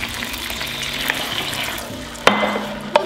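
Wine poured into a pan of sizzling chicken, a steady close frying hiss with sharp splashy bursts near the end and no talk.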